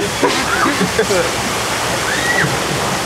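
A waterfall on a rafting ride at an amusement park pours as a constant loud rushing of water, with people on the boat talking and exclaiming over it.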